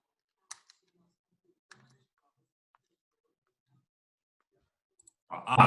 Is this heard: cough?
no